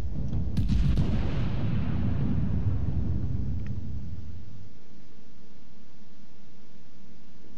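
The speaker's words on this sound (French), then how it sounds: "On va commencer à ouvrir le feu." Bayern battleship main guns firing in the naval video game World of Warships: a massive booming salvo at the start with a rolling low rumble that decays slowly over several seconds into near silence.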